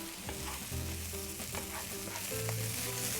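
Pollock and green onion stir-frying in a hot pan, a steady sizzle with scraping and clinking of the utensil, close and continuous without talk.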